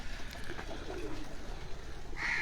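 Soft, low cooing of pigeons on a rooftop loft, faint and close in a quiet setting, with no speech.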